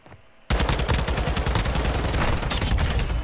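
Rapid automatic gunfire in a ranked online shooter game erupts after a brief quiet moment, then continues as a loud, dense burst of closely spaced shots to the end.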